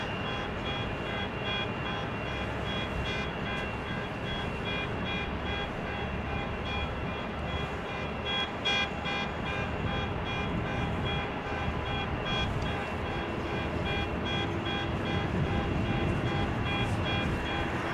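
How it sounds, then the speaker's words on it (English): A steady electronic car alarm tone drones on and on in the distance at Amsterdam Schiphol Airport, layered over a constant rumble of engines and machinery. "Oh, another car alarm going off over there somewhere."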